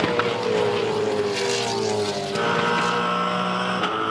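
A V8 Supercar engine screams on board Russell Ingall's car on soft tyres as it exits a corner at the Perth round, a loud close roar climbing through a gear change with harmonic whine.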